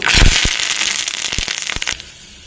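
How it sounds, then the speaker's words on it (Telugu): Curry leaves dropped into hot oil for a tempering spit and crackle with a burst of loud sizzling that settles into scattered sharp pops before fading to a quiet hiss. "ఇప్పుడు కర్రీ లీవ్స్ వేద్దాం"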